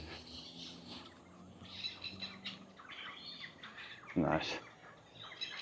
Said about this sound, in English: They're going to be quite a menacing, nasty bird.